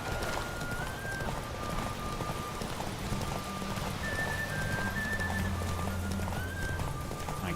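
In The Witcher 3, the horse Roach gallops with steady, rapid hoofbeats over a continuous bed of ambient game sound and music, and a whinny rises partway through; a voice talks quietly underneath.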